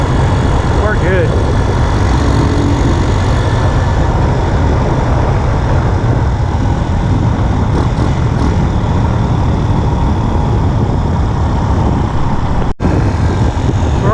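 A 141cc big-bore engine fitted with an oil cooler runs smooth and steady on a ride, a loud, continuous drone with some wind rush and no clear changes in pitch.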